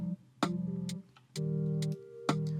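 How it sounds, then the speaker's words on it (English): Drum machine beats from a Silos studio session, recorded on its own mic with organ chords bleeding through: sharp hits land roughly once a second over sustained, droning keyboard tones, close and fairly loud with no talking. "So you have one for the drum machine, which sounds like this."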